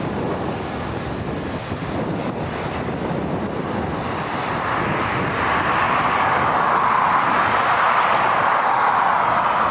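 An Airbus A320neo airliner takes off at Dublin Airport with a steady, broad rushing roar that swells louder toward the end, buffeted by wind on the microphone.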